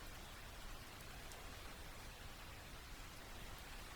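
Steady rain falls with an even, unbroken patter, quiet and continuous throughout, with no voices or other sounds over it.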